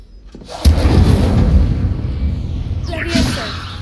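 Incendio fire spell cast in Hogwarts Legacy during a duel: a sudden loud whooshing burst followed by a sustained roaring, crackling rush of flame that lingers for several seconds, with a brief flare near the end.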